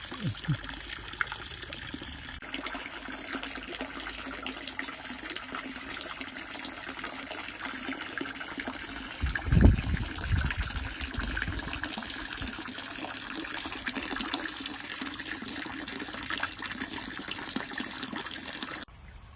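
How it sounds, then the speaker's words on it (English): Water steadily pours into a tank, a continuous close gushing and trickling that runs for about twenty seconds with a brief louder splash near the middle, heard alone without talk. "I lost all my water. I'll have to fill it up, and as you can see it's a little bit blue"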